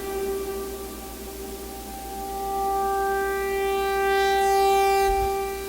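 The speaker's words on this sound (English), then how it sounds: "that effect is being achieved by automating the filter frequency again" A sustained, buzzy LMMS synthesizer tone, its filter cutoff automated so it starts dull and gradually opens to a brighter, sharper sound over several seconds. It plays alone, steady and fairly loud, with no talking.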